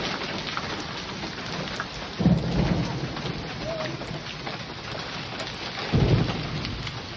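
Hail pounds down on a truck's metal in a steady roar while two deep thunder rumbles roll in, a few seconds apart, during a hailstorm in Oklahoma City.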